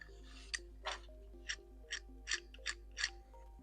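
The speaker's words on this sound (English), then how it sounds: "Now we can insert the fixing screw into a nut." Faint rhythmic ratcheting clicks, about seven evenly spaced ticks, as a fixing screw is turned into a nut in a homemade current meter's vane holder, over a low steady hum, no voices.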